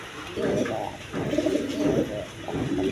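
Several Sirazi and Bombay pigeons coo in low, throaty, repeated bursts, close and fairly loud, with a steady murmur of other birds behind.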